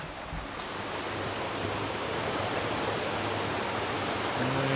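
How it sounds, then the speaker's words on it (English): A river flows near the base of a waterfall, its steady broadband rush filling the scene without pause, close and fairly loud, with no voices. "there's the river there behind me"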